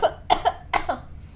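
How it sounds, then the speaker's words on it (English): A short burst of coughing, several harsh coughs close to the microphone in two quick clusters, with no talking. "Sorry, I'm coughing."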